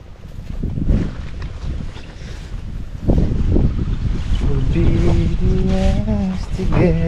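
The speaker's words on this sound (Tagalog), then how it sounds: "Uy, lakas ng hangin." Strong wind buffets the microphone in loud, gusty rumbles throughout on a farm field, with some harmonic, engine-like tones rising in the second half.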